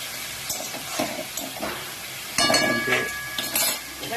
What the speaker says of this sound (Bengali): নাড়াচাড়া করা হচ্ছে